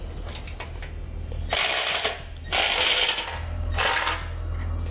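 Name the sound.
3/4 inch socket snugging up trailer hitch bolts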